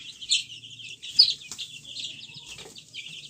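Chickens and chicks clucking, with high chirping from the chicks, a continuous busy chorus of small calls at moderate volume.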